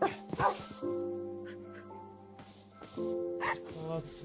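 Minecraft dogs give short yips and barks over sustained, tonal game music. The barks come in a few scattered bursts, near and moderately loud.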